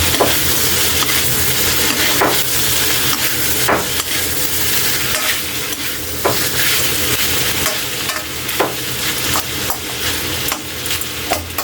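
Sotanghon guisado, glass noodles sautéed in a pan, stirred steadily with a continuous sizzle and repeated sharp scrapes and taps of the utensil against the pan, close and loud, with no talking.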